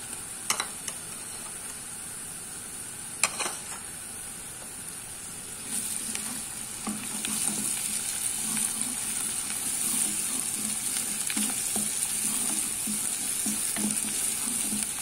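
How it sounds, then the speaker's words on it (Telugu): Ginger garlic paste fries with onions in a pan for a prawn and gongura curry, a steady close sizzle with occasional stirring clicks and scrapes that grows slightly louder partway through. "అల్లం వెల్లుల్లి పేస్ట్ పచ్చి వాసన పోయేంత వరకు ఫ్రై చేసుకుంటే బాగుంటుందండి."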